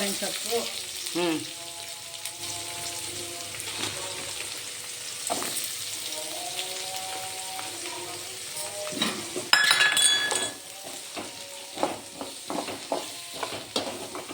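Mustard seeds, onion and curry leaves frying in hot oil for a home-style palya, a continuous soft sizzle with occasional spoon clinks against the pan and a brief louder crackle midway, no talk.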